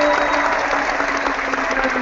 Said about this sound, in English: Oh, I'm supposed to do applause now.